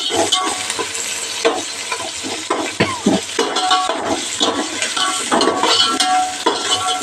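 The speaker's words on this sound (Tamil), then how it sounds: "நல்லா வெங்காயம் வதங்கணும்" Onions and slit green chilies sautéing in a pan, loud close sizzling with repeated scraping and clinking of a spoon stirring against the metal throughout.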